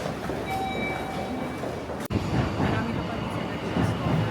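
A Tokyo subway train rumbles steadily with wheel noise and a brief faint high whine, loud and close throughout, with voices faintly under it.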